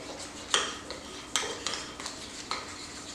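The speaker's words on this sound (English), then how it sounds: "You gotta keep stirring, keep whisking away." A whisk stirring melting candy coating in a pot for homemade cake pops, making soft continuous swishing broken by sharp metallic clinks against the pot sides at an uneven pace, with no voices.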